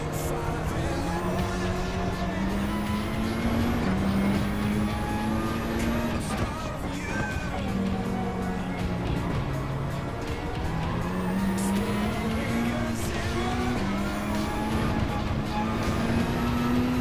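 Race cars battle at Interlagos in Gran Turismo 7, with several engines droning and rising in pitch together as a pack, steady and loud throughout, with faint talk now and then.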